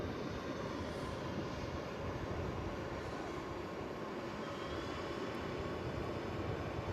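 An Embraer jet operated for KLM at Manchester Airport roars steadily at close range, a dense broadband jet rumble holding constant throughout with no voices.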